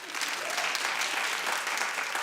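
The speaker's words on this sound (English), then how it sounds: "Clap if you have." A theater audience breaks into sustained applause, a dense wash of many hands clapping from a distance, steady and unbroken from start to finish.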